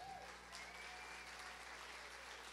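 Steady, faint applause from a crowd at a religious gathering, continuous for the whole stretch with no break.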